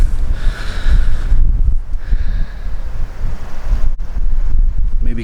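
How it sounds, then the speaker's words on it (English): Strong gusty wind buffets the microphone in loud, low rumbling bursts, with a brief lull partway through and faint rustling behind. "it's really windy out"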